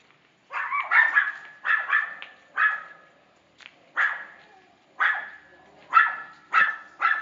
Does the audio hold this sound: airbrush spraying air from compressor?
no